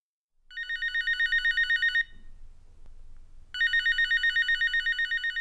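A telephone rings in two long trilling bursts separated by a pause, close and clear with only faint low background noise beneath.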